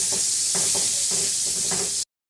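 Onions cooking in a pan after pork chops, loosening the browned bits from the bottom: a steady close sizzle with a few soft stirring scrapes, heard alone.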